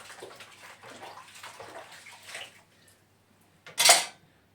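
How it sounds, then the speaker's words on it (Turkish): Dishes being washed by hand in a kitchen sink, with running water and clinking plates and cutlery over the first few seconds, then a short loud splash or rush of water near the end. "Birazını elimde yıkayayım arkadaşlar."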